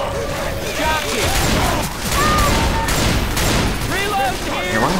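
Rapid bursts of gunfire from the Left 4 Dead 2 video game, dense and continuous under game sounds and raised voices.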